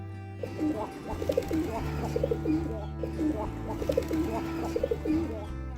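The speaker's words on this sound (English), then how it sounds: "Pigeon. This is pigeon." A pigeon coos in soft, repeated low rolling calls, fairly close and clear over a steady background hum, with no talking.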